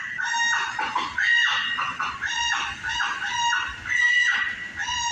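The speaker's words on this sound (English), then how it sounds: "it sounds like a dying chicken when he turns the wheel." A fowl or chicken-like squawking cry, repeated in strained, honking bursts that come back again and again, loud and close, standing in for a truck's failing power steering as the wheel is turned.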